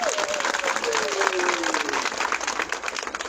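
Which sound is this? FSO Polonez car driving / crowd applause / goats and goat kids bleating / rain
crowd applause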